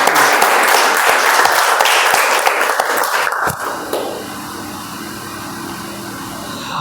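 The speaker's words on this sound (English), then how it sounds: "please give them a thunder of applause" Toastmasters meeting attendees applaud loudly for several seconds before the clapping thins and gives way to a steady background hum.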